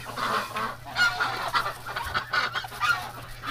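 Ducks quacking and honking in winter, a couple of birds close by with repeated, uneven calls over steady low hum and outdoor background.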